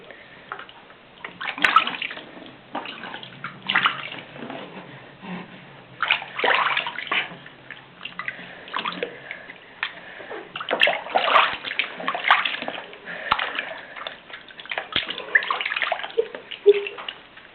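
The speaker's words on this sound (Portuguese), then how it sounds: "O menino tomando banho." Bathwater sloshes and splashes steadily as a boy bathes and washes his hair, irregular close splatters and pours continuing for the whole stretch with no talk.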